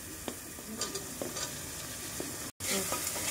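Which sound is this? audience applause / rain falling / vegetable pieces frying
vegetable pieces frying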